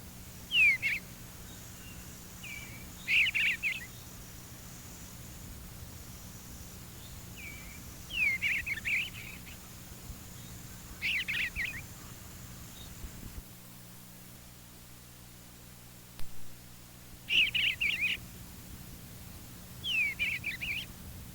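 A bluebird sings its full song, a series of short soft warbled phrases repeated every few seconds with quiet gaps between, faint against light background hiss.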